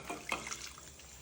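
Water rinsed through a mixer jar is poured into a simmering Kerala-style curry, making a few faint, brief splashing gurgles before fading quietly.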